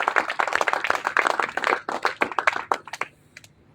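Audience applause at a school speech competition, a dense burst of many hands clapping close and loud for about three seconds, then thinning out to a few last claps.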